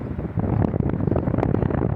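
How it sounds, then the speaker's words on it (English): Heavy wind buffets the microphone with a loud low rumble and gusty rustling, close and continuous. "it's windy. I don't know if it's going to mess with the sound"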